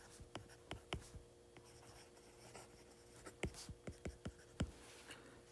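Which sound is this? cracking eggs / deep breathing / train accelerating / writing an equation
writing an equation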